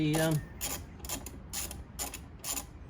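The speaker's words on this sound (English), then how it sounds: "the socket wrench. Tighten her down and make sure it's all nice and tight in place" A socket wrench ratchets while tightening the bolts of a top box on an Xmax 300 scooter. About six crisp clicking bursts repeat evenly and close, with a brief voice at the start.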